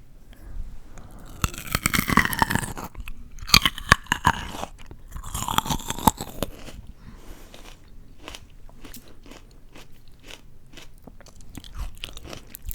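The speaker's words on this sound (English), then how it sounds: "Grapes have been my current favorite fruit, so we're gonna try one." Close, crisp crunching as firm, juicy grapes are bitten and chewed, loud bites early on giving way to softer, rhythmic chewing.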